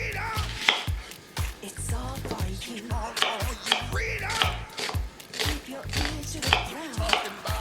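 Knife chopping vegetables, onion among them, on a board for a dhaba-style paneer masala, a steady run of close, sharp taps with brief pauses and some background voice between strokes.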